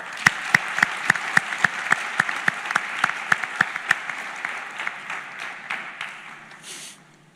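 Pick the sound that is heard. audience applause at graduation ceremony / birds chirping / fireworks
audience applause at graduation ceremony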